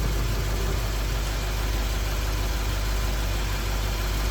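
A Lexus LS430 engine idles steadily nearby, a dense, constant low rumble with broadband mechanical noise and no change in pitch over a few seconds.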